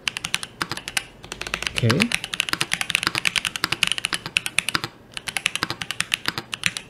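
A typing test on an aluminium mechanical keyboard with Boba U4 tactile switches, steady close keystrokes in a quick rhythm, with one short spoken word partway through.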